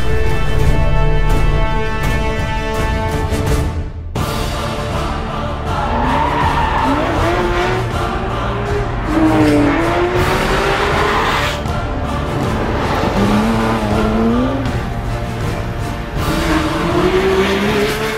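A Porsche 911 GT3 RS 4.0 laps the test track at the Porsche Development Center in Weissach, Germany, its engine revving hard with loud tire squeal and rising and falling pitch as it is driven fast, with no speech.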